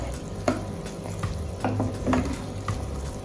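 Food fries in a pan for the African jollof rice, a soft sizzle under light stirring with a few scattered clinks and scrapes of utensil on the pan.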